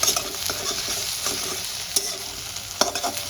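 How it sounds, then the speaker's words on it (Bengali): Egg bhurji, scrambled egg, sizzles in a pan under a steady hiss while a spatula stirs it, leaving sharp scraping clicks at irregular moments. "এবার আস্তে আস্তে করে নেড়ে আমি বড় বড় টুকরো করে ভুজিয়াটা বানাবো"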